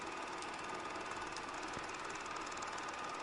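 Failing bomber plane engine as a sound effect in a War of the Worlds radio drama, a steady loud rattling, knocking drone that runs unbroken throughout with no talk.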